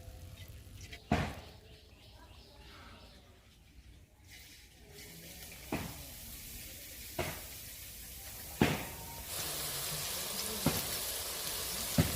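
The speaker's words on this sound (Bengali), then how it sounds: "ভাজা হয়ে গেছে এবার তুলে নেবো" Boondi droplets fry in hot oil with a soft, broad sizzle that swells louder toward the end. Several sharp metallic taps from a slotted ladle punctuate it, heard close with no speech over it.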